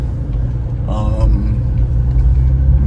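A 2006 Toyota Corolla XRS with about 193,000 miles pulls away, a deep steady engine rumble and road noise filling the cabin, with a voice briefly heard over it.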